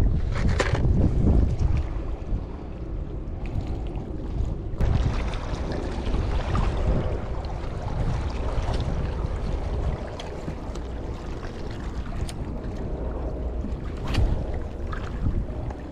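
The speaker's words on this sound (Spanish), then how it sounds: "Luego parará el viento, imagino." Wind gusts around an angler doing ultralight fishing from the shore or a small boat at sunset, a steady rushing and buffeting of the microphone with a few soft knocks and handling sounds, with no speech.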